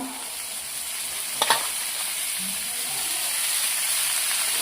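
Radish curry frying in a pan, a loud, steady hiss of sizzling with one short burst of spoon scraping near the start as it is stirred.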